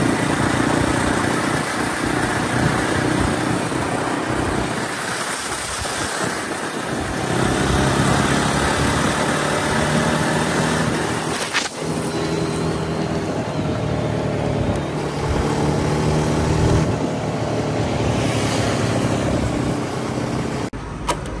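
A Jawa Bobber motorcycle engine while riding, a loud, continuous drone with rising and falling engine tone as it shifts and accelerates, heavy wind rush, and no talk.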